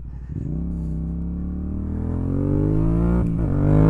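A Yamaha MT-07 motorcycle accelerates steadily, its engine note climbing in pitch and growing louder over several seconds, recorded close up with no talking.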